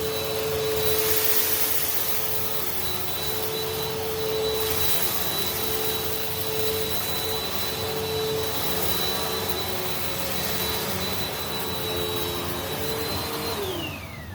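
A Bissell Powerforce Helix upright vacuum cleaner, fitted with new bearings and picking up rice and oats, runs with a loud, steady motor whine close by. Near the end its pitch falls away as it winds down. No one speaks.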